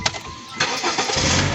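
A used car's engine cranks with a short starter whir, catches, and settles into a steady idle close by, with no talking.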